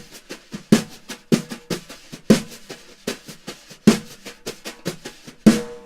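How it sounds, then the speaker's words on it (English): A brush plays a funk backstroke pattern on a snare drum: crisp accented slaps fall about every half to one second, with soft swishes and ghost taps filling the gaps in a steady, close groove. "I like to do a thing like kind of like a backstroke with the brush that gives it a little extra flavor"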